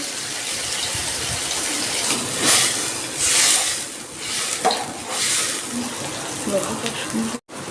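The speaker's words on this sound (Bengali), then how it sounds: "আমার কষানো হয়ে গেছে আমি এবার জল দিয়ে দিচ্ছি" Water is poured into a pan of fish curry made with hilsa and water lily stems, a continuous wash and splash with a few bursts of sizzling, fairly close and moderately loud.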